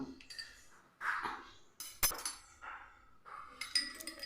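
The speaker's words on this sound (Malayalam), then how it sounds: "ഒരു സ്പൂൺ വെച്ച് നമുക്കൊന്ന് മിക്സ് ചെയ്തെടുക്കാം" A spoon stirs sugar into a cold summer drink in a glass, making several sharp, close clinks and taps against the glass with short pauses between them.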